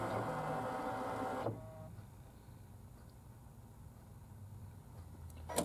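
An embroidery machine drives its hoop outward to position the sewing area, a steady motorized whir for about a second and a half, then quiet low hum until a faint click near the end.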